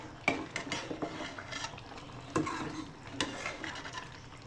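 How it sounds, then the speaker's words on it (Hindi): A spoon stirs turnips into chicken curry in a pot, making close, repeated scraping clanks and soft sloshing with a faint simmer, no voices. "अब हम इसे इसमें डाल के अच्छे से मिक्स करेंगे।"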